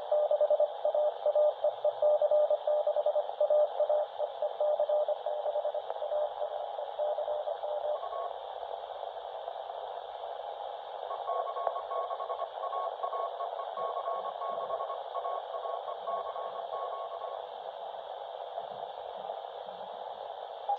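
Weak HF radio signal received on a cheap QRP SDR transceiver, a steady hissing band of noisy tones with faint fluttering carriers, continuous and fairly quiet with no voices.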